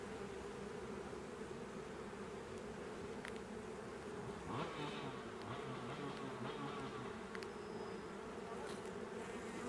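Dense, steady buzzing of many honey bees at a small hive box, a continuous close drone with a few brief higher whines from individual bees passing near.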